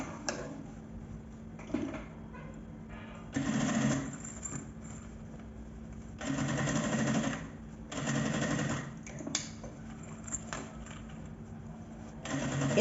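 A sewing machine stitches bias binding around the edge of a quick shoulder bag, running in several bursts of a few seconds each with short pauses between, close and moderately loud.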